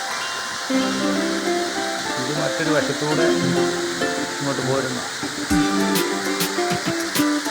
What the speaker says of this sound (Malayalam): കണ്ടോ നല്ലൊരു വെള്ളച്ചാട്ടം കണ്ടോ